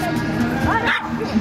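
A dog gives short yips and barks amid crowd babble during a dog football game at an outdoor pet festival.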